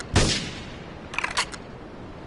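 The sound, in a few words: gunfire in the video game GTA III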